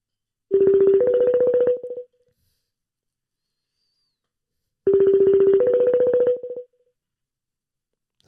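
Telephone dialing to bring a caller onto a podcast: two bursts of rapid touch-tone beeps with a pitch step midway, each about one and a half seconds long, separated by a few seconds of silence, loud and close.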